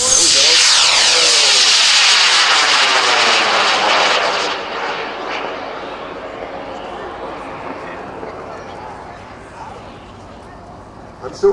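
High-power model rocket lifting off on a Kosdon L585 motor: a loud roaring rush at ignition that stays strong for about four seconds, then recedes into a fading hiss as the rocket climbs away.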